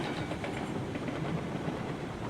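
Locomotive running along the track in RailRoads Online at Aurora Falls: a steady, moderately quiet rumble with faint rhythmic clicking of wheels, continuous and without voices.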